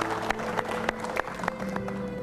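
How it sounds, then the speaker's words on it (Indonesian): A studio audience claps for Hendy on a television talk show, giving a thin round of scattered, separate claps at a moderate pace over a low steady hum. "Tepuk tangan dulu untuk Mas Hendy, Bu Melani."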